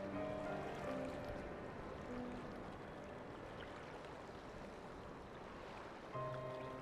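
Ocean waves in Final Fantasy XIV, a soft, steady wash of surf and water with faint tonal game ambience over it, gentle and distant throughout.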